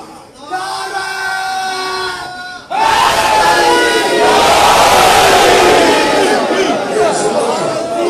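At a religious majlis, a single voice chants a line before a large crowd with raised hands roars back a slogan response in unison, loud and close, and the shouting stays dense until the end.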